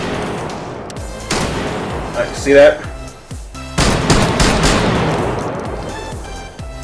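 Shotgun firing in the H3VR virtual reality game, a few loud, sharp blasts spaced apart, with someone talking between them.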